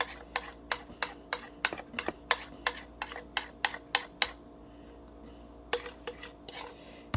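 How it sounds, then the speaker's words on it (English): A spoon or utensil taps and scrapes in a bowl as sugar and baking powder are stirred together for chin chin dough: steady rhythmic clicks, close and fairly quiet, with a short pause before the stirring resumes. "We first of all mix the dry one, like put on our sugar and baking powder together"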